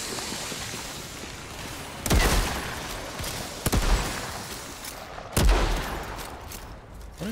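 Gunfire in the video game Outriders, heard as three sharp, loud shots spaced a second or more apart over a steady background of game ambience, with no talking.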